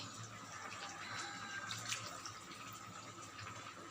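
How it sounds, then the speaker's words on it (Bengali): Water pours into a cooking pot on the stove, a quiet, steady splashing stream heard close up with no talking. "তো আমি এটাতে জল দিয়ে দিচ্ছি।"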